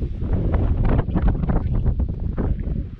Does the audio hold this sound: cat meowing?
no